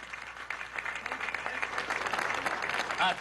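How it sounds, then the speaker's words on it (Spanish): Crowd applause at an outdoor political tourism event in Nueva Esparta, Venezuela, steady dense clapping for about three seconds, fairly loud with a slight swell near the end. "¡Aplauso!"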